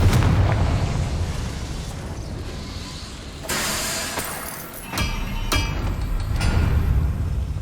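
Confringo fire spell blasts in Hogwarts Legacy, a burst of explosive booms with crackling debris and glassy clinks, loud and close, erupting in several hits over a rumbling game backdrop.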